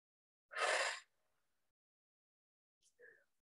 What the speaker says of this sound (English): One more big deep breath here.